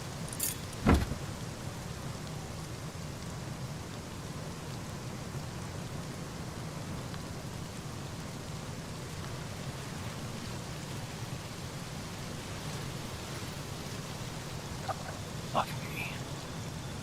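Heavy rain pours steadily in the desert of the Rust survival game, a dense continuous hiss with a brief sharp knock near the start and a couple of faint clicks late on.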